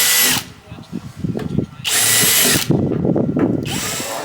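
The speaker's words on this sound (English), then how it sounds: "So now what I'm going to do is go around with a 4mm bit and just go through my holes" Power drill with a 4mm bit boring rivet holes through the side window trim of a Land Rover Defender, three loud, sustained whining bursts separated by quieter gaps with handling noise and faint clicks.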